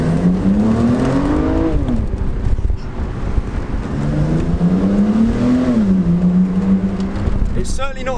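A BMW Z4 sDrive30i engine hums and rises in pitch as it accelerates, drops, then climbs again, heard from inside with the roof off, open-air wind and road noise; someone speaks over it.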